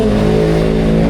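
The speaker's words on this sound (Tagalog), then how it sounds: "Ang ingay nung sasakyan, Ariel." A loud car engine revs hard while a vehicle passes close by, a steady roaring drone with no voices over it.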